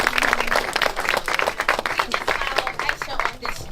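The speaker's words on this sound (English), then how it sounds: "can we do one more round of applause?" Audience applause at a live film event, a steady dense patter of many hands clapping, loud and sustained for the whole stretch.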